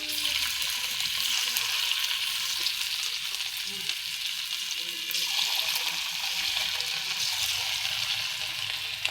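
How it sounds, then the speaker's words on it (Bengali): Pakora batter frying in hot oil in a wok, a continuous close crackling sizzle that swells and settles over about nine seconds with no talking. "কড়াইয়ের তেলটা গরম হয়ে গেছে, এখন আমরা পকোড়াটা দিব"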